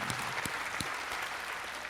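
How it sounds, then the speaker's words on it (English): A crowd claps continuously, a dense patter of many hands at moderate loudness without pause. "Another round of applause for everybody around the world that's listening"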